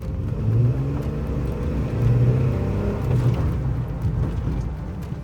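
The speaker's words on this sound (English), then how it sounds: "I accelerated hard" A 2017 Jeep Wrangler engine, running after a water pump replacement and prone to overheating, accelerates hard with a deep, rising rumble and repeated surges of revving. It is heard up close with no talk.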